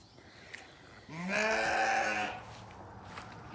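A single close sheep bleat, loud and wavering, lasting about a second against a quiet outdoor background.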